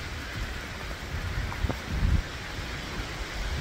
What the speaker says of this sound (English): it was absolutely pouring rain